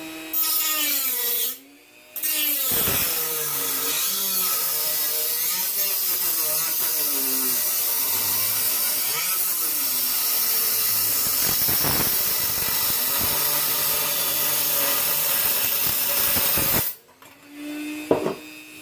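A hand saw rasps through wood for a hobo stove in steady, continuous strokes. The sound is close and loud, and a short pause near the start breaks the long, even sawing.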